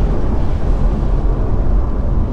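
Nissan 350GT with an automatic gearbox, heard while driving: a steady, deep engine rumble, loud and close, with no voices.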